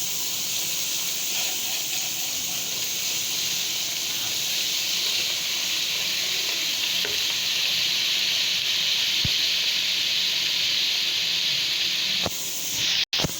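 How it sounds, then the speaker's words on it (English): Boiled mutton paya with meat and bones roasting in a pan over a medium flame gives a steady, loud, close sizzling hiss that continues unbroken for the whole stretch, with a brief clatter near the end. "we will roast it completely. Don't do this on high flame. We are roasting on medium flame."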